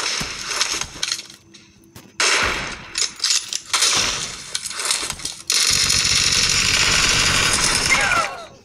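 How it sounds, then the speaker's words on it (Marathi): Sniper rifle gunfire crackles in a multiplayer shooter video game, with several sharp, loud shots and mechanical clicks in quick succession, then a dense, sustained burst of noise near the end. "आता त्यांना स्नायपरनीच उडवणार आहे मी"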